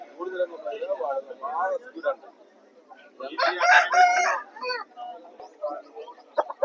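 A rooster at a market in Vijayawada crows loudly once mid-clip, close by, while someone talks before and after the crow.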